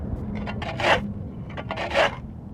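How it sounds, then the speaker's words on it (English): A shovel scrapes the overgrown edge of a lawn, giving two rough, gritty scrapes about a second apart. Each scrape builds to a harsh peak, heard close over quieter rustling. "So I'm just getting the shovel. I'm just scraping it"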